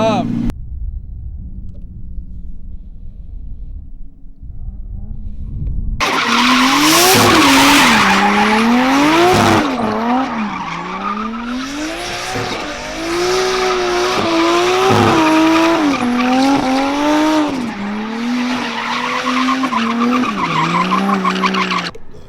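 A Nissan Skyline drifting, its engine revving hard and rising and falling while the tires squeal and skid in long loud sweeps, close and continuous after a quiet start with a low idle.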